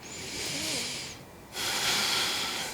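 Deep, audible breaths drawn in and pushed out through the mouth during an inner-thigh adductor stretch, close and fairly loud, an inhale and exhale separated by a short pause.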